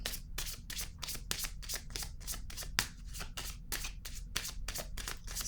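Tarot cards are shuffled by hand in a quick, even riffle of crisp slaps and flutters close to the microphone, with no talking.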